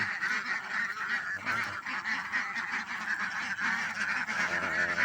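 A flock of egg-laying ducks quacks and honks continuously nearby during feeding, a dense, overlapping chorus with steady loudness and no pauses.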